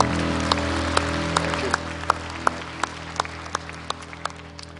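Steady applause from a large church congregation, a dense patter of clapping that continues throughout with a few sharper claps standing out.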